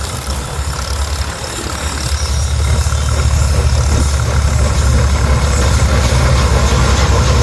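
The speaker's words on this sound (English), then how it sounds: "this is a 10-bottom Cogsett gang plow being pulled by a 1909 Geyser steam traction engine" A 1909 Geyser steam traction engine hauls a 10-bottom Cogsett gang plow, giving a steady, loud low rumble and chuffing that builds slightly and holds throughout, with broad mechanical noise and no voices.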